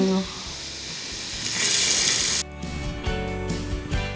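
Onion dropped into garlic frying golden in oil for a Maharashtrian pithla, a sharp burst of sizzling that swells and then settles into steady crackle, close by.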